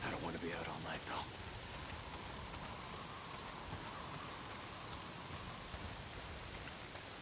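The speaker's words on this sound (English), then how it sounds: "Not if it's pissing down rain." Heavy rain pours down in Days Gone, a dense, steady hiss of drops on surfaces filling the scene; a brief voice cuts in at the very start.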